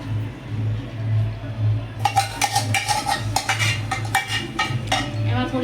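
A utensil stirs pav bhaji in a cooking pan with a low steady hum in the background; after a quiet start come repeated metallic clinks and scrapes in an uneven, busy rhythm, close and clear.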